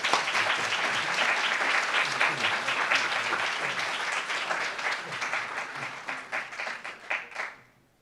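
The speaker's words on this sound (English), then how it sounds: "That deserves a round of applause" Sustained applause from an audience at an economics department graduate commencement, greeting a graduate who earned a PhD and MD; dense steady clapping fills the room, thinning into scattered claps before fading out near the end.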